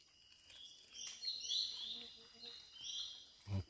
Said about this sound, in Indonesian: Ada satu lagi nih, cucak rantai.